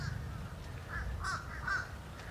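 Several crows caw in short harsh calls at moderate distance, spaced irregularly over steady outdoor background noise as the birds gather ahead of an approaching storm.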